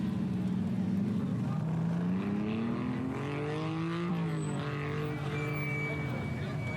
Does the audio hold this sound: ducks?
no